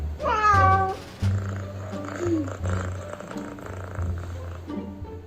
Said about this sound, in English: Here's a cat meow.